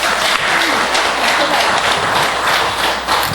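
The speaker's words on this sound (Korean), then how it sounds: "자, 박수 한번 보내주세요." Applause from an audience at a Buddhist temple talk with scripture-chanting contest: dense, steady clapping fills the whole stretch at close, even loudness with no pauses.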